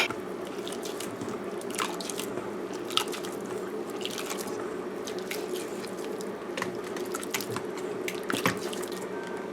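Water poured into a cooking pot for Guyanese kichri, a steady trickling and splashing running for about ten seconds with small drips and clinks over a low kitchen hum.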